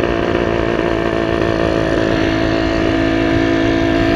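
A Yamaha V80 motorcycle engine, hot after top-speed runs, runs steadily up close with a buzzing two-stroke drone and a constant pitch throughout.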